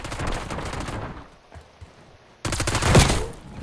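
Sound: shotgun fire in Call of Duty video game

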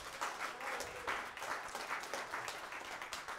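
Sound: church congregation applause for musicians

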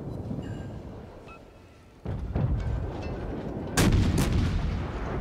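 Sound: warship's 5-inch secondary guns firing, from a video game

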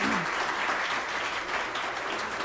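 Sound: audience applause at kindergarten graduation

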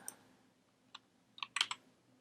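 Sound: typing on a computer keyboard

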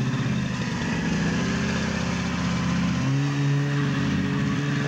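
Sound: 1972 Olympique snowmobile engine running around the yard

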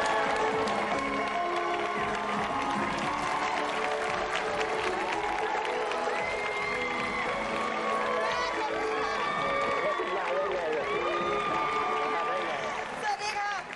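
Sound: audience applause

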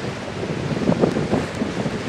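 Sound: ocean waves and wind at the beach

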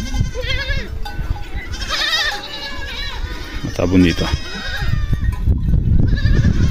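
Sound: herd of goats bleating in the hills

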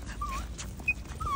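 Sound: dogs

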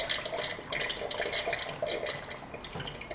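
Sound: hot water poured down a Mosin rifle barrel

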